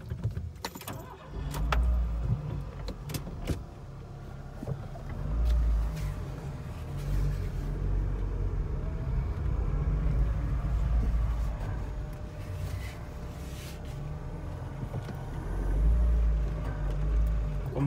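A Renault Sandero eases slowly into a home garage, its engine idling low and steady with soft rumbling surges as it maneuvers, plus occasional small clicks and knocks, fairly close and without talk.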